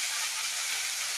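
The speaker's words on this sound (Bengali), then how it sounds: "এখন সুন্দর করে শাকটা ভেজে নেবে।" Dheki fern greens frying in a pan with torn chilli tempering, giving a steady, even hiss from start to finish with no talking.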